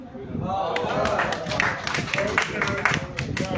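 Applause rises from an audience at a Hindi poetry recital, a steady patter of clapping hands that carries on without a break, with voices faintly underneath.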